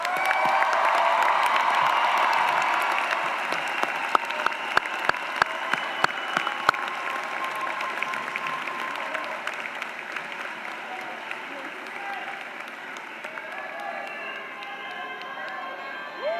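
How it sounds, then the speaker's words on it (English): Sustained applause from a large audience at a university commencement ceremony, steady broad clapping that thins slightly over time, with scattered sharper claps and a faint murmur of voices. "applause."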